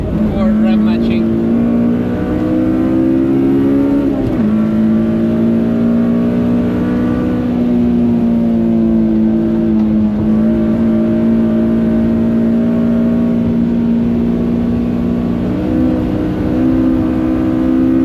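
Honda Civic engine revving on the Nürburgring, a steady loud in-car drone with the pitch rising and dipping in short blips around 4 and 10 seconds, heard continuously throughout.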